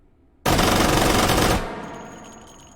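Kriss Vector SMG fired in a continuous full-auto burst of about one second inside the H3VR shooting game, loud and close, followed by a short fading echo and faint mechanical clicks.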